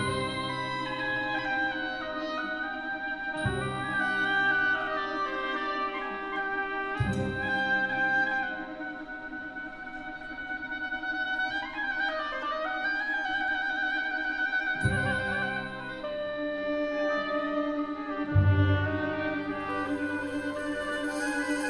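An oboe played with its reed seated in the instrument, a melodic reedy line with orchestral accompaniment, steady and moderately loud throughout, with no talking.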